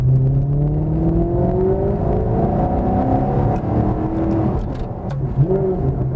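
A Maserati GranTurismo S with a naturally aspirated V8 revs and pulls through the gears, a loud close engine note rising and falling in sweeping pitch changes with sharp downshift bursts near the end.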